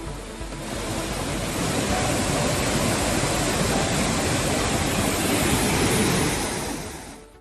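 Floodwater roars over Kumbakkarai waterfall after heavy rain, a steady, dense, loud rush that fades in and out at the edges with no voices.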